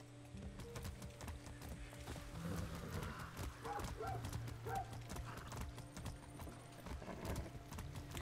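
Rhythmic clip-clop hoofbeats from horse riding in the video game Far Cry 6, a steady mid-volume gallop with occasional horse snorts and game ambience under it, with no speech heard.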